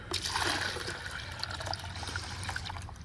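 Water poured onto a garden plant outdoors in Pembroke Pines, Florida, a steady splashing, trickling stream heard close and alone for about three seconds, with no talk over it.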